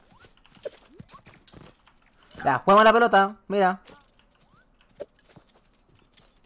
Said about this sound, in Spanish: ¡Hola, mi caballo!